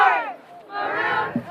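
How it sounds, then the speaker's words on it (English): Visiting Rancho San Juan high school cheerleaders chant at a football game, a burst of massed young voices shouting in unison, pausing briefly and then surging again, heard from a press box in front of them. "Those are the cheerleaders of the Rancho San Juan."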